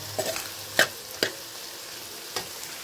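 A spoon stirs food in a pan after salt and turmeric go in, giving a few scattered scraping clicks over quiet background.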